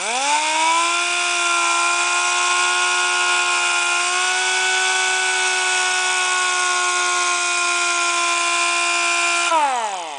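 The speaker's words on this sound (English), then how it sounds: "So I go slow, and I'm just basically sanding the area with a different pattern now." A high-pitched buffer sanding stainless steel whines steadily at constant speed, loud and close, then winds down as it shuts off near the end.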